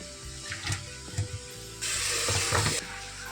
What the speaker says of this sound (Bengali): এখন চাউমিনটা আমি ছেঁকে নেব